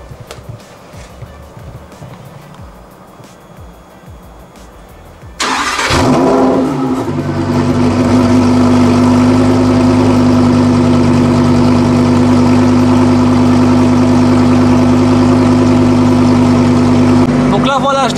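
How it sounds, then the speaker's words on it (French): A Lamborghini Huracan Evo fires up in Corsa mode with the exhaust fully open: a sudden loud start bark, then a steady, close, throaty idle that holds to the end, after quieter background sound. "Je vais la démarrer immédiatement en mode Corsa et vous allez voir le bruit que ça fait"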